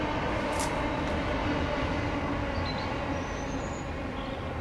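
A train rumbles past nearby, a loud, steady roar of rolling wagons with faint high squeals from the rails, continuing throughout.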